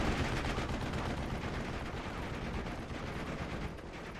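Dense, continuous gunfire and machine-gun bursts fill a World War II tank-and-infantry battle in the strategy game Steel Division: Normandy 44, loud and unbroken throughout with no pauses.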